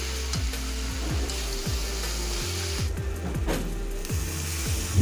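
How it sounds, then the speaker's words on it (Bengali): Curry with chilli paste being sautéed in a pan, giving a steady close sizzle with regular scraping and stirring strokes from a spatula, and no talking. "এবার আরও কিছুক্ষণ কষা করে নিচ্ছি।"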